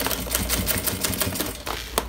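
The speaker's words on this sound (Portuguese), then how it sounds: "Vou costurando" A sewing machine stitching through plastic sheeting for a honeycomb organizer, a steady run of rapid, sharp mechanical clicks, close and fairly loud.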